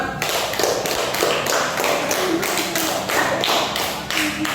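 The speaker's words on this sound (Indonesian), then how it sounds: "Tepuk tangan untuk kelompok 2." Classroom applause for the second student group: a steady, dense patter of many hands clapping together for several seconds, fairly close and even in loudness, with no talking over it.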